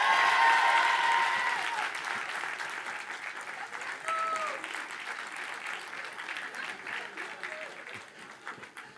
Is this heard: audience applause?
yes